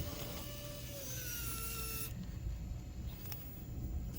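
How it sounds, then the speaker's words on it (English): An electric winch on an Axial RC Power Wagon scale truck whines thinly as it pulls the truck up a slope, a close, fairly quiet motor tone with shifting pitch, then a soft mechanical hum after it stops. "Got it winched up, moving on."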